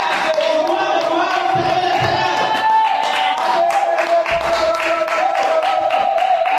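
A church congregation claps and cheers loudly and continuously, the dense applause mixed with voices and a sustained tone running underneath.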